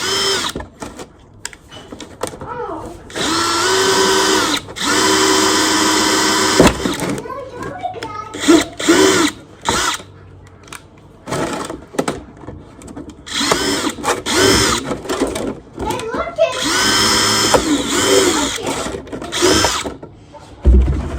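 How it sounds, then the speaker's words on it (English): A power drill whirs loudly in repeated bursts, spinning up and stopping between holes drilled for winter sowing, with brief voices and clatter in the gaps. "drilling holes in it."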